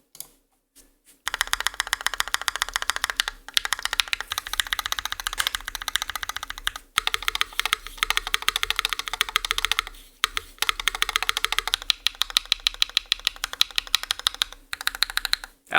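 Rapid typing on a RAMA M60a mechanical keyboard fitted with switch mods, a brassy-toned board: dense, steady streams of crisp clacks up close, broken by a few brief pauses, with no talking.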